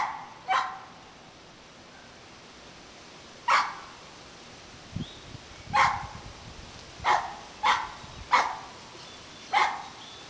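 A dog barks in about eight sharp single barks, spaced irregularly and sounding moderately distant, against a quiet outdoor background with no speech.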